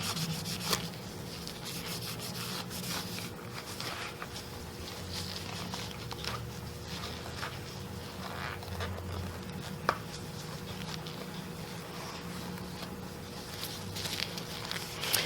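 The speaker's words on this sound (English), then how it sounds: "take my towel and just rub it along here" A towel is rubbed along a screen-printing squeegee to wipe off old ink, making a soft, continuous scrubbing and brushing noise with small irregular taps, fairly faint and close, with no talking.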